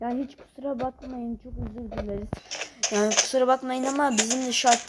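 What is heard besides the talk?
No distinct noise like a dog, phone or traffic.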